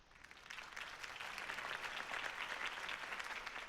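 A video game crowd breaks into sustained applause after a campaign speech by the character Harvey Dent, a dense, even wash of clapping that swells and holds steady at moderate distance.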